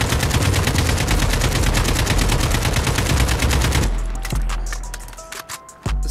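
Sustained automatic fire from an AK74u in Call of Duty: Modern Warfare, a dense unbroken stream of loud rapid shots for about four seconds, then fading to a few scattered clicks and one sharp final hit.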